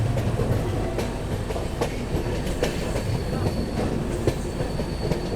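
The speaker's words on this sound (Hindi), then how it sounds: "यहाँ से अपनी ट्रेन ने नीचे उतरना शुरू कर दिया है घाट सेक्शन से।" An AC express train descends a ghat section, its wheels rattling and clacking steadily over the rails in a dense, continuous rumble with sharp rhythmic joint clicks, heard from inside the coach.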